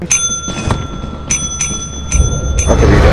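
A bright bell in Lethal Company rings repeatedly in sharp metallic dings, five or six strikes in an uneven rhythm over a low rumbling background.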